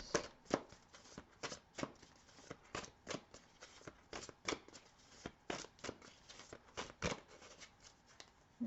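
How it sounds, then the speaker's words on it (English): Tarot cards being pulled and shuffled, a run of quick papery riffles and snaps in an irregular rhythm, close and fairly quiet with no talking. "So let's pull some more cards to clarify these cards."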